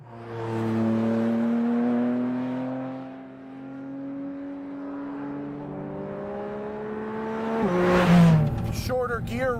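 A Porsche race car fitted with the Weissach pack and shorter gear ratios accelerates hard on the Streets of Willow circuit, its engine note climbing steadily and loudly through a long pull before a sudden shift and a rougher burst of noise.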